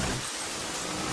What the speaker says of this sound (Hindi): माथुर इतनी बारिश में प्रोग्राम कैंसिल नहीं कर सकते थे सर.